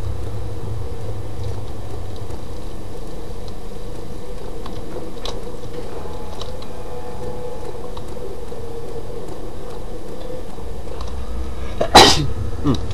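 In the horror game Amnesia, a low ambient drone with scattered small creaks runs for a long stretch before a single sharp, loud sneeze bursts out near the end, followed by a brief rustle.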